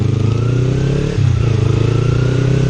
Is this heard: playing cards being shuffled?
no